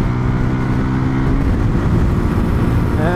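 A VOGE 300 Rally single-cylinder motorcycle accelerates to overtake on the road, a loud, close, steady engine drone rising slightly in pitch toward the end.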